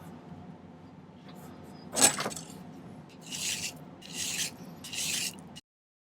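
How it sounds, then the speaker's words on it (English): A silver triple bar ring is worked with a hand file, producing several rasping strokes after a sharp metallic clack, each scrape a distinct burst close up. "So now I'm going to spend a little bit of time filing this."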